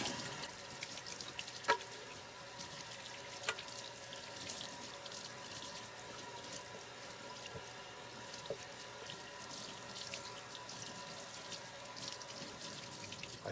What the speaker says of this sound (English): Now that I've got some cold water running, it is cold water.